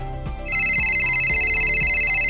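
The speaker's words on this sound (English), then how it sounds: "It is a mobile phone ringing." A mobile phone rings with a bright, pulsing electronic tone that starts abruptly and holds loud and steady, layered over a repeating rhythmic melody.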